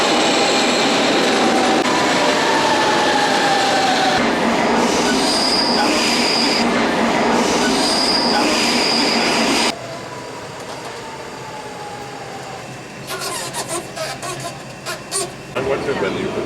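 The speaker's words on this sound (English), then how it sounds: "So we're back in the metro, as you see." A Lisbon metro train rides along in a loud, continuous rumble with squealing wheels and clickety-clack. The noise drops suddenly partway through, then rattling and squeals build again, with voices talking under it.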